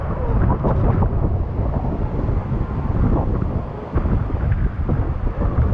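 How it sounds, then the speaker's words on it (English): Strong wind roars and buffets the microphone continuously at the bottom of a waterfall, a loud low rumble with gusty surges throughout and no talking. "It's like really windy down here at the very bottom."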